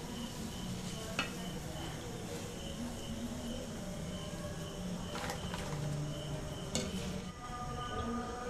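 Raw mango bhujia frying in hot oil while being turned until crisp, a steady soft sizzle with a few brief clicks of stirring, moderately faint and continuous throughout.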